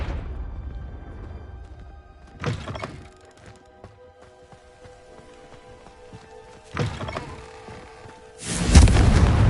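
A Confringo fire spell explosion in the video game Hogwarts Legacy, with several loud booming blasts spaced apart, the last one heavy and sustained, over a quiet ambient backdrop.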